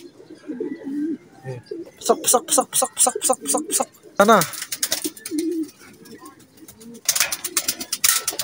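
Racing pigeons coo in repeated rhythmic bursts on arrival at a loft, close and clear, mixed with wing flutters and bright chirpy notes while a person speaks briefly in between.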